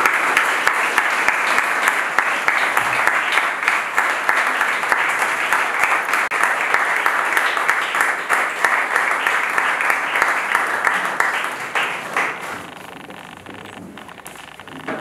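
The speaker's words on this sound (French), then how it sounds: "Mesdames et messieurs, est-ce qu'on peut applaudir pour l'autrice Rosie Yata, s'il vous plaît?" A French audience applauds an author, with steady dense clapping that fills most of the stretch and then thins out and fades near the end.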